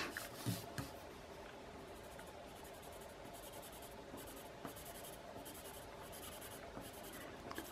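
A colored pencil scratches lightly across paper in quick, continuous strokes, a soft dry rasping texture with occasional small taps, close-up and quiet, no speech.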